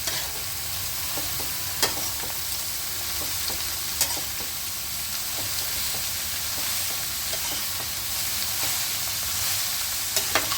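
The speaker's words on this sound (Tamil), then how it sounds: "இப்போ நம்ம துருவி வச்சுருக்க கேரட் அதில் சேர்த்துடலாம். இப்போ நல்லா வதக்கி விட்டுருவோம்." Grated carrot sautéing in ghee with cashews and raisins for carrot halwa, a steady broad sizzle running throughout with occasional sharp clicks of a spoon stirring against the pan.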